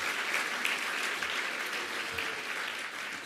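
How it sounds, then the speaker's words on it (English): A crowd applauds at a 2018 National Science Foundation award ceremony honoring faculty advisors, with steady, dense clapping that holds at an even level throughout, and no talking over it. "So one more big round of applause for our faculty advisors."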